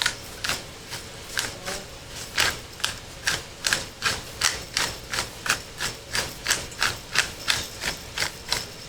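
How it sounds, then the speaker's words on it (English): A pepper mill grinds black pepper over roasting vegetables with a pork roast, giving a steady run of crisp, evenly spaced ratcheting clicks, about two per second, close and fairly loud with no talking. "we're going to get a nice good grinds of pepper on this"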